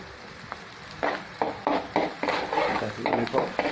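Onions sautéing in a pan, bursts of sizzle as they are stirred and turned in rhythmic strokes, close and clear with no talk.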